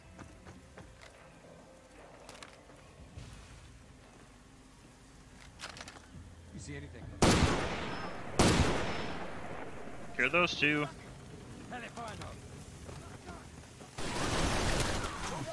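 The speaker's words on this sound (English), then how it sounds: "Okay, that's a lot of gunfire." Gunfire in the video game Far Cry 2: a few loud, sharp shots and booming blasts ring out amid a low ambient background, with someone speaking briefly in between.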